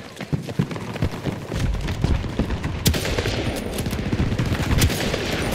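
Rapid video game gunfire, mostly dense bursts of automatic fire that carry on almost without a break. Sharp single shots cut through a busy, loud mix, and no clear talk comes through.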